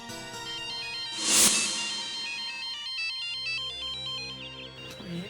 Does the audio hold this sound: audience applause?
no